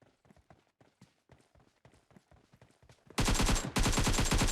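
Soft, steady footsteps in the battle royale game PUBG Mobile, a quick even rhythm heard faintly for about three seconds before a much louder dense burst of gunfire swamps them.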